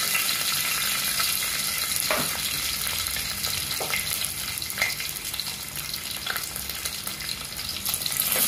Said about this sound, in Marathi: आता हे जरा परतून घ्यायचं, जरा लांब उभं राहायचं, कधी कधी ते उडतं